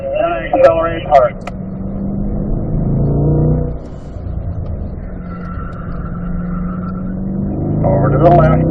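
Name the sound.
car accelerating hard on a race track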